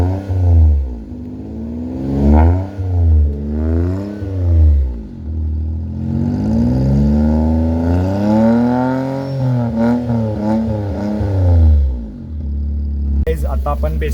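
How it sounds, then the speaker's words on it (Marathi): A Maruti Alto car with a newly fitted exhaust revving repeatedly, close and loud, each throttle blip sweeping up and falling back in a string of rises across the stretch, ending in a longer sustained rev with a sharp burst at the close. "तुम्हाला आता लगेचच आपण एक्झॉस्टचा आवाज ऐकवणार"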